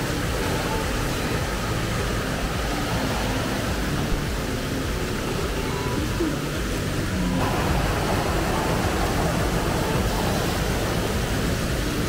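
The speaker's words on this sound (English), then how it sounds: "we're starting to see the waterfall" A waterfall in Colombia's coffee region gives off a steady, broad rushing hiss, moderately loud and unbroken throughout, with no voices.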